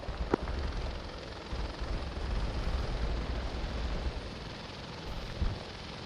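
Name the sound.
helicopter in a military video game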